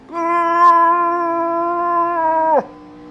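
A person's voice imitates a Wookiee roar, one sustained, tonal growling howl lasting a couple of seconds before cutting off sharply.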